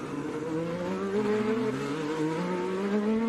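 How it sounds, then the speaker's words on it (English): An IndyCar race car on track during qualifying at Long Beach, its engine droning loudly with pitch rising steadily through the gears over a continuous broad roar, no talking. "Connor Daly, second last car across the line"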